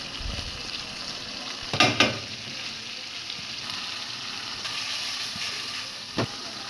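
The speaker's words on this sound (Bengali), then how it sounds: "এখন দিয়ে দিচ্ছে সিদ্ধ করে রাখা কচু" Boiled taro pieces tipped into a pan of frying fish, a steady soft sizzle broken by two quick clattering thuds as they land, then one more brief knock near the end.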